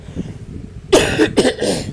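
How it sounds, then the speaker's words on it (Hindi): Two sharp, harsh coughs from a man with a sore throat in quick succession, close and loud, after a moment of quiet room sound. "बार बार मुझे खांसी आ रही है"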